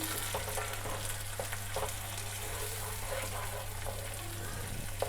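Tomato puree from three medium tomatoes stirred into a hot frying pan for a peanut curry, giving a steady soft sizzle with scraping stirs over a constant low hum, fairly close and moderately quiet.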